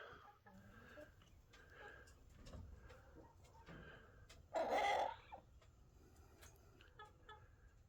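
A chicken clucks once loudly and close mid-clip, with faint rustling and quiet background around it.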